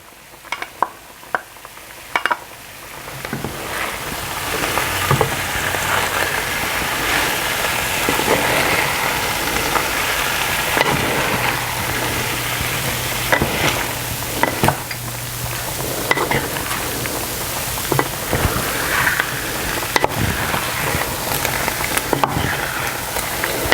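Cherry tomatoes stirred into a simmering beef pasta sauce give a steady bubbling sizzle, broken by repeated scrapes and knocks of a utensil against the pan, close and fairly loud throughout.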